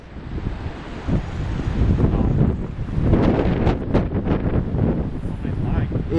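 Strong wind buffets the microphone in heavy, continuous gusts during bass fishing in bad weather, with a voice talking faintly beneath the roar.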